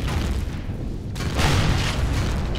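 Missile launchers being blown up in Empyrion - Galactic Survival: a continuous roaring blast of broadband noise that swells louder halfway through, dense and rumbling with no clear separate hits.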